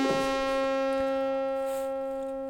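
A Behringer Brains synth voice with four oscillators selected plays a sustained, steady harmonic tone after a brief attack, heard alone and gradually fading slightly.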